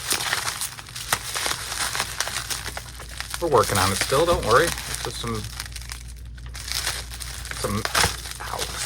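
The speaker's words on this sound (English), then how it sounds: "Let me cut the bubble wrap off" Thick, crinkly plastic bubble wrap rustles and crunches as it is cut with scissors and handled, close by, while a person talks over it.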